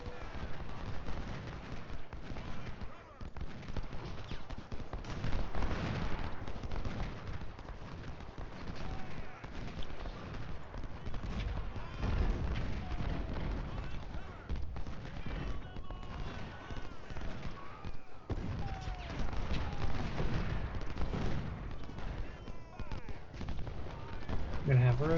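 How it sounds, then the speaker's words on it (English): Continuous rifle volleys and artillery rumble from a Prairie Grove battle in Ultimate General: Civil War form a dense, moderately faint backdrop of crackling shots and booms, with someone talking over it. "It looks like someone's shooting us in the flank."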